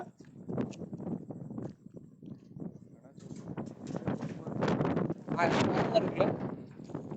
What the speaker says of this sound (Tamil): காற்று ரொம்ப அடிக்குது